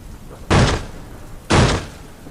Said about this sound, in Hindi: अचानक 8 बजे कोई दरवाज़ा ठकठकाता है।